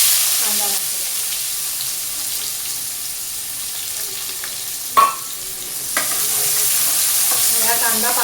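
Chopped onions frying in hot oil with asafoetida and red chilli, a steady close sizzle with occasional stirring and a sharp clatter of the utensil midway.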